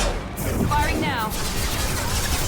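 Sci-fi weapon fire in Mass Effect 2 combat: a dense, steady rattle of shots and impacts runs throughout, with voices talking over it.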